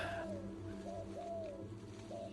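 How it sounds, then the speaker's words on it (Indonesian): A turtledove cooing in the countryside, a series of soft, low, drawn-out coos at irregular intervals, faint and somewhat distant over a quiet ambient background. "Bunyi tekukur terdengar di tanah kita."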